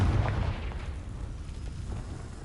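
A Confringo fire spell blasts in Hogwarts Legacy, a rumbling explosive boom that starts loud and decays into a long, dense roar over a couple of seconds.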